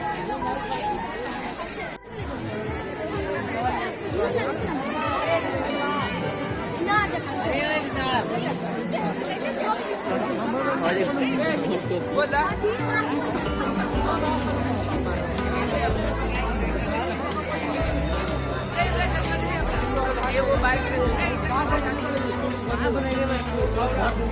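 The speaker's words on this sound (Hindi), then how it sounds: "भीड़ जे छै अखनो वैशाली में धग एकदम खरखरेने छै भीड़" Dense crowd chatter at Vaishali on New Year's Day, a steady loud babble of many voices throughout with a busy, bustling feel.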